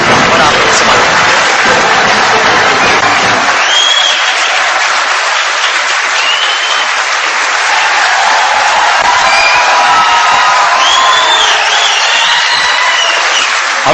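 Audience applause and cheering at a Karachi gathering, a dense, loud wash of clapping and crowd noise sustained throughout, with a voice over it early on.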